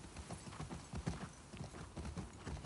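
Horse hooves clip-clop at a steady walking rhythm in The Last of Us Part II video game, soft, close and repeating over a quiet background.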